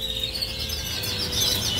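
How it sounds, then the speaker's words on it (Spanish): Young nestling birds, newly hatched chicks being taken from their nests, give a steady stream of thin, high chirps close by, with no talking over them. "los pajaritos nuevos"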